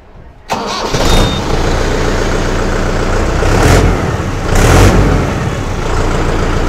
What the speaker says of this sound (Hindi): ट्रैक्टर को स्टार्ट करके आपको इसका आवाज़ सुना देते हैं